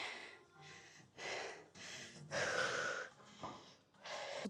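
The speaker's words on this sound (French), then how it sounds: "Vous devez entendre ma respiration." After a leg workout at the gym, a man breathes heavily with deep, rasping inhales and exhales in an uneven rhythm, close to the microphone and fairly quiet.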